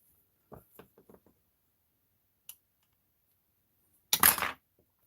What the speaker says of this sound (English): Snip the back side.